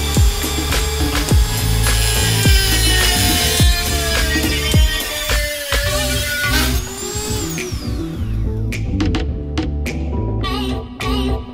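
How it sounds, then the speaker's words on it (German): Threaded rod being sawn to length during a wooden wall-panelling build in a DIY campervan, heard as dense, continuous rasping strokes at close range with clattering tool noise, no speech. "wir messen das jetzt aus, wie viel Stück Gewinde wir brauchen, sägen die dann zurecht und dann geht's los."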